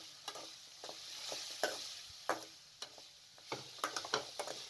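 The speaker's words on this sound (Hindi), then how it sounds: "तमाम चीज़ें डालकर 2 से 3 मिनट तक अच्छे तरीके से फ्राई कर लें।" Potatoes and onions fry for spicy vermicelli with a soft background sizzle, punctuated by sharp scraping stirs and clinks of a spoon against the pan at irregular intervals.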